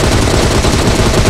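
Rapid automatic gunfire from the battle royale video game PUBG, a dense, loud, continuous burst of shots filling the whole moment with no pauses.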